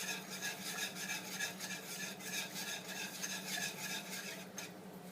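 Almond milk sauce for healthy mac and cheese being whisked steadily in a pan, a continuous close scraping and stirring sound with a faint low hum underneath and no talking.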